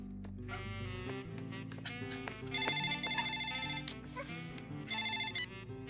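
A telephone rings during a call, a repeated electronic ringtone with bright melodic pulses that continues for several seconds, heard alone and fairly quiet against a soft background.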